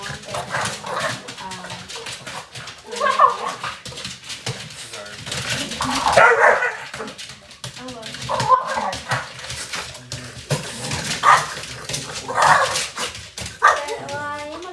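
A pup barks in short yips and lets out whimpers in a home kitchen, the sounds coming in bursts every second or two, loud and close, while someone talks over them.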